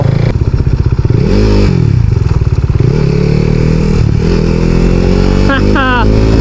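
A KTM RC 390 sport motorcycle engine throbs loudly up close and revs up and down in pulses, with someone talking over it near the end.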